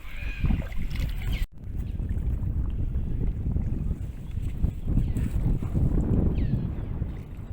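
A boat crosses a river near Chandubi Lake by Guwahati toward an island resort, a continuous low engine and water rumble heard up close with heavy wind buffeting the microphone and one sharp knock partway through.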